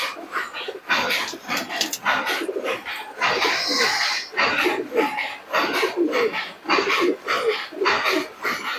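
Teddy pigeons coo in repeated soft, throaty phrases close by, mixed with wing flutters and movement in the loft, while people talk intermittently over them.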